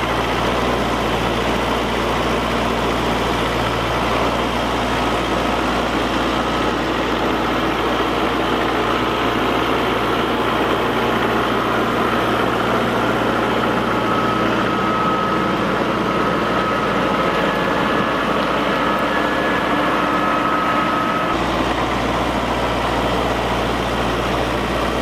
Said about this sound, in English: I'm going to take this box blade and tractor out to an old trail that I started years ago.